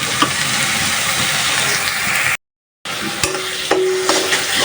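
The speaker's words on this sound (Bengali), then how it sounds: "এগুলো সুন্দর মতন একটু বাজা তারপর মশলাগুলো দিব হালকা একটু বেজে নিই" Jackfruit seeds and dried kachki fish with finely chopped garlic frying in a pan, a steady close sizzle with stirring scrapes, broken by a brief gap of silence midway.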